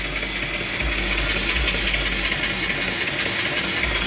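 Live steam engine turning slowly, about 100 RPM, belt-driving an alternator through a D-belt pulley; a steady, loud mechanical hum and chuff with low rhythmic pulses that fills the whole stretch without talk.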